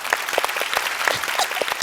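A television show's studio audience claps in a dense, continuous burst of applause, close and loud throughout.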